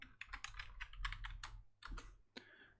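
Typing on a computer keyboard, a quick run of close, crisp key clicks in uneven bursts with brief pauses, quiet and alone.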